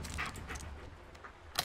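A dog pants in the Blair Witch video game, with quick, breathy, rhythmic huffs close by and a faint whimpering edge that ends in a short sharp noise.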